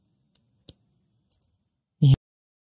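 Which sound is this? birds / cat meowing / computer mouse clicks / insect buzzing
computer mouse clicks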